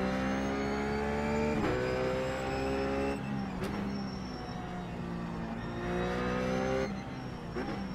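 A Ruf race car lapping the Zandvoort circuit in the iRacing simulator, its engine droning steadily with repeated gear shifts and rises and falls in pitch, sustained and up close throughout.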